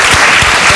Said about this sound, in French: on va applaudir ça